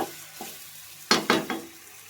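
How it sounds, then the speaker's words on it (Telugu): Broccoli frying in butter in a pan is stirred with a few quick scraping strokes over a soft background sizzle, close and brief, with no talking. "మూత తీసి కలుపుదాం చూడండి మంచిగా కుక్ అయిపోయింది మంచి ఫ్రై అయిపోయింది"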